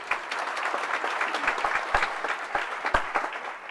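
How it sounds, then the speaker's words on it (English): Applause from a crowd at a medicine and health sciences graduation ceremony, full and steady, with a few louder nearby claps popping out and the clapping beginning to thin toward the end. "Let's give him a round of applause."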